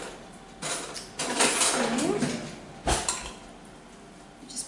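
A metal fork scrapes and clinks against a pan while stirring sweet potato and pumpkin into vegan pesto linguine, producing several bursts of rattling, scraping contact with a sharp knock near the end.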